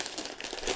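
Oxo-degradable plastic bag from a Warhammer 40K Conquest issue being unwrapped, a steady close crinkling and crumpling of thin plastic throughout, with no voices.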